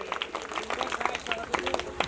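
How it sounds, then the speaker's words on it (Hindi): An audience at a Ram Katha religious gathering claps in welcome, a crowd of overlapping hand claps forming a steady, moderately faint patter throughout. "जोरदार ताली बजा करके स्वागत करें"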